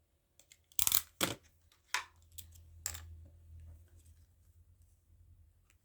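Small fussy cutting scissors snip through paper in a few close, quiet, crisp cuts early on, followed by soft rustling and handling noises in a quiet room.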